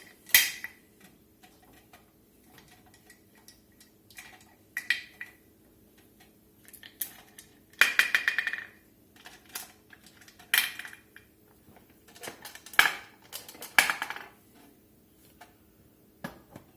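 Intermittent metallic clinks, scrapes and clatters of a metal pressure canner lid being unscrewed and handled, in irregular bursts separated by quiet pauses, close by.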